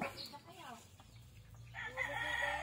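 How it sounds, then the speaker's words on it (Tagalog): A rooster crows nearby on a small farm in Bongabon, Nueva Ecija, its call rising and stretching out, with other chicken sounds and faint background noise. "marami-rami din ho itong tumitilaok sa kanilang bakuran."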